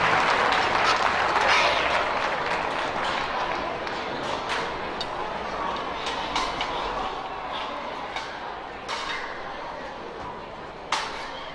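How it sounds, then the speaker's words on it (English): Sustained applause and cheering from a crowd at a youth fair livestock show as exhibitors leave the ring, a steady wash of clapping with scattered sharp claps, loud and continuous throughout. "let's give all these exhibitors a big round of applause as they exit the ring."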